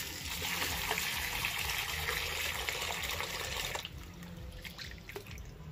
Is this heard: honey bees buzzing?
no